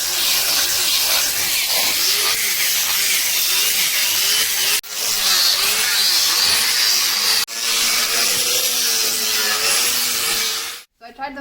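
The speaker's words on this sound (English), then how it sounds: "It is the 9553NB Makita angle grinder." A Makita 9553NB angle grinder runs loud and steady with a high whine, cutting out briefly twice before resuming and then stopping at the end.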